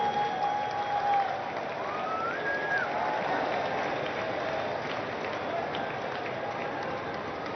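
A large audience at the International Arya Conference 2025 applauds after Prime Minister Narendra Modi's address, a steady, dense wash of clapping that carries on without a break, with a faint whistle-like tone near the start.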